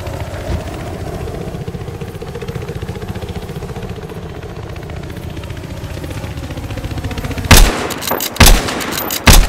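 A helicopter's rotor and engine thrum steadily and loudly throughout, then three sharp, loud bursts of gunfire cut through near the end.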